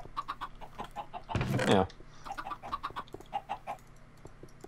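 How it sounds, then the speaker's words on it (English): Chickens cluck repeatedly in a blocky survival video game match, with a brief louder squawking burst midway and someone talking over the clucking. "We have at least 15 chickens."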